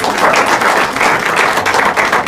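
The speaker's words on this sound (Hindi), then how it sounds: "ताली बजाओ देश की जनता की" An audience at a stand-up comedy show breaks into brisk, dense applause, many hands clapping loudly and steadily throughout with no talking.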